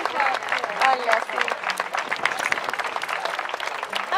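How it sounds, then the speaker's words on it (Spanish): A crowd claps steadily and loudly throughout, with voices talking over the applause, at an outdoor gaucho parade anniversary celebration in Argentina. "Fuerte el aplauso"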